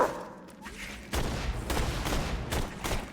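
Gunfire in the video game Borderlands 2 comes in several sharp bursts after a quiet opening, each shot loud and booming with short gaps between them.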